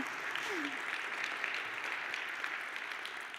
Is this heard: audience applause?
yes